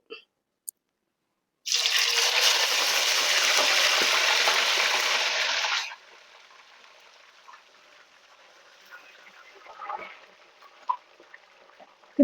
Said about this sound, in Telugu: లో ఫ్లేమ్‌లో పెట్టుకొని ఈ చికెను పీసెస్ అందులో వేసుకోవాలి.